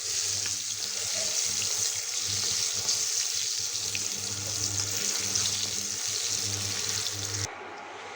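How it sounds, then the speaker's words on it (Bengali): Jackfruit seeds deep-frying in oil give a steady close, bright hiss with a faint bubbling undertone, running unbroken and then cutting off abruptly near the end. "এবার ডুবো তেলে কাঁঠালের বিচিটা ব্রাউন কালার করে ভেজে নিব"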